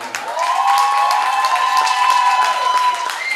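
Applause from a crowd at an outdoor rock concert in a parking lot, a steady dense wash of clapping held for several seconds, with a sustained tone and faint voices mixed in.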